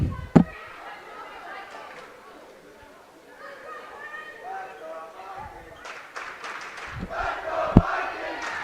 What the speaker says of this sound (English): And the crowd is going wild already